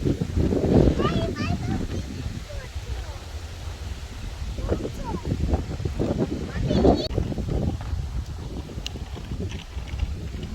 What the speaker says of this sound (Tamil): பாருங்கள், நல்ல காற்றடிக்குது.